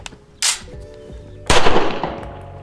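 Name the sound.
cheap 2011 pistol firing, then failure-to-feed malfunction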